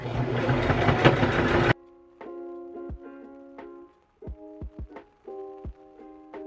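A home sewing machine runs a straight stitch along a bucket hat seam at a quarter-inch allowance. It gives a close, steady mechanical hum in short bursts separated by sharp clicks and pauses.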